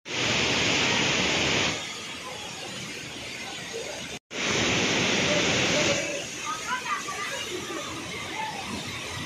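Bhatta waterfall in Mussoorie, a loud roaring rush of falling water that dips and swells, with crowd chatter in the background.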